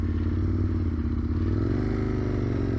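An Aprilia RSV 1000 sports motorcycle rides along with a steady, loud engine drone, its pitch rising slightly partway through, heard close up from the bike, with no talking.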